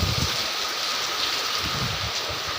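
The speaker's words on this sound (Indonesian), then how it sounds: "Waduh, anginnya lumayan banget, gede banget guys." Heavy rain pours down in strong wind, a steady loud broadband roar with gusty low rumbles buffeting the microphone throughout, no voices.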